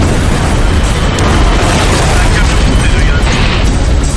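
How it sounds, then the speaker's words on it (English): Massive roaring blasts of gas tanks exploding at a train crash, a continuous dense rumble of booms and bursts with no clear gaps, loud and close throughout. "The explosions send tanks flying through the air, littering the area with dozens of canisters."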